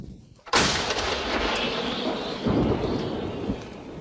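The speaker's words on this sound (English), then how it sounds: "We use the cannon to hold back their advance." A sudden loud boom from a cannon erupts, then rumbles and rolls on for seconds, with a second blast rising in the middle like distant heavy artillery, near the Oskil River in Ukraine.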